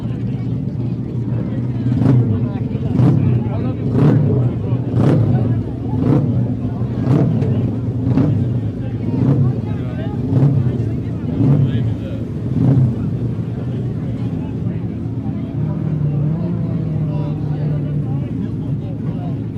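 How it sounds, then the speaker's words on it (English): Some 33 sidecar racing engines sit idling and warming up together in a pit lane during TT sidecar shakedown, a steady loud rumbling drone with periodic sharp revs, close and continuous with wind noise over it. "you really can't describe the feeling of just 33 sidecar engines sat warming up"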